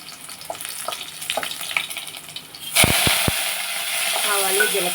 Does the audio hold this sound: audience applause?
no